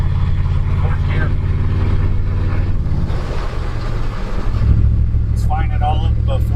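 A 1992 Chevy OBS truck drives in fourth gear with a loud, steady engine drone and road rumble throughout, while people talk over the noise.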